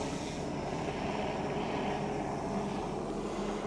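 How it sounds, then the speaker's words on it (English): Several helicopters flying over a volcanic eruption site in Iceland, a steady continuous rotor and engine drone filling the air, fairly loud and unbroken with no talk. "there are like 3 helicopters in the air now"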